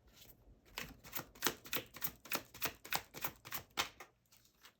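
A deck of tarot cards is riffled and shuffled by hand, giving a rapid series of crisp papery flutters and snaps, close and steady, about a dozen bursts in a row.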